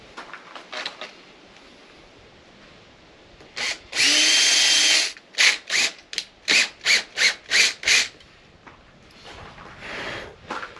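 A power drill drives self-tapping metal screws while mounting a speedometer and GPS on a Yamaha T7 World Raid motorcycle: one long whirring run, then about seven short bursts in a quick series, close and loud.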